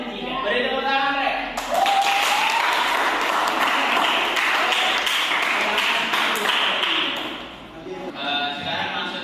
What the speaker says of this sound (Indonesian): Beri tepuk tangan, Rek.